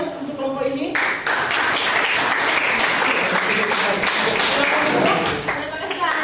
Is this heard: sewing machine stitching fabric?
no